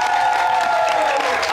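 Studio audience applause and cheering for a legendary guest on an Eid special TV show, a dense continuous wash of clapping with a host's voice speaking over it.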